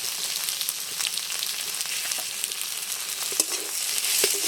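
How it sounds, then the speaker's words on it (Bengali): Tender okra fries in a pan with salt, turmeric and chili powder, giving a soft, continuous sizzle with light scraping and stirring clicks near the end; fairly quiet and up close. "আবারও মশলার সাথে খুব ভালো করে ভেন্ডিটাকে নেড়ে চেড়ে নিচ্ছি।"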